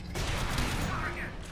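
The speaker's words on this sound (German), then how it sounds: "Oh, jetzt habe ich meinen Railgun benutzt." Railgun firing in the video game Alien Swarm: a dense, loud burst of gunfire filling the whole moment, with game noise and voices mixed underneath.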